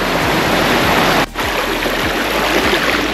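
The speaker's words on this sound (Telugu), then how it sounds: "ఈ వాటర్ అయితే అలా కొండ మీద నుంచి వస్తున్నాయి" Mountain stream water rushes steadily down a hiking trail on Mont Mégantic, Quebec, a loud, continuous broadband wash with a brief dip partway through.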